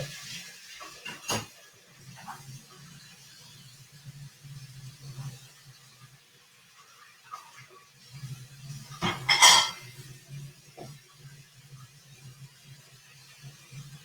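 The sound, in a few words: washing a small spoon and two bowls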